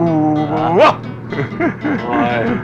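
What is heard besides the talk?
dog barking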